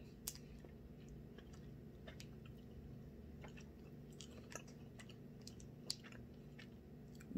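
A chocolate keto cookie is chewed with soft, faint clicks and crunches scattered irregularly over quiet background noise, with no talking.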